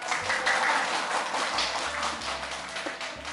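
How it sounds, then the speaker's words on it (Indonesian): Students in a classroom clap together, a dense, continuous patter of many hands lasting a few seconds at moderate loudness, with no clear voices over it. "tepuk yuk."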